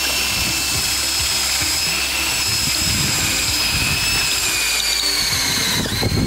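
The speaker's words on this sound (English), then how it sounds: "This is the cheapest pocket hole tool I could find." A drill bores through wood with a cheap pocket hole jig while building camper van cabinets, giving a steady high whine with a rough, chattering grind underneath that holds for several seconds.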